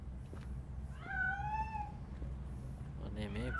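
A single drawn-out meow from a fleeing cat in the video game Robocop Rogue City, clear and fairly close over a faint background hum, followed near the end by a shorter, scratchier cry.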